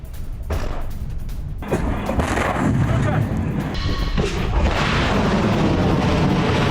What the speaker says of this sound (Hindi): भूमध्य सागर में रूसी वॉरशिप की लाइव फायर ड्रिल